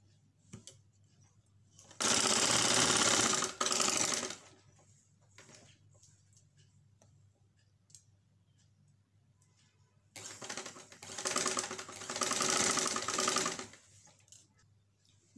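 A sewing machine runs in two loud sustained bursts while stitching a coat collar, with a quiet pause between them and no talking.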